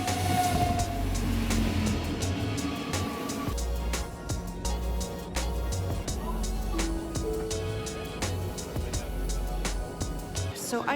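Train ride heard from inside a carriage: steady low rumble and rolling hum with faint rhythmic clatter throughout, moderately loud and continuous.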